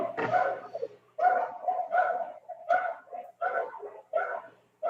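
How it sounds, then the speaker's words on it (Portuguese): Small dogs yap repeatedly through a participant's open microphone during an online session. Roughly seven sharp, closely spaced barks come fairly loud and close, with no talk over them. "está vazando o áudio aqui de algum cachorrinho latindo?"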